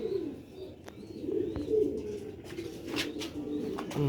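Pet pigeons coo repeatedly in low, throaty rolling calls nearby, with a few sharp clicks and rustles in between and no talking.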